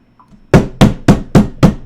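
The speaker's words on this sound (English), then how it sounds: "Is that the tapping noise you're talking about?" Five loud, evenly spaced sharp knocks or taps, each a hard percussive hit with a short decay, following a brief quiet stretch with a faint low sound.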